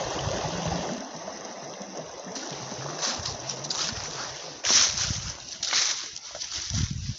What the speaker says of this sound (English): Listen to that slush. It's not my stomach, it's just a river. It's like making a nice gurgle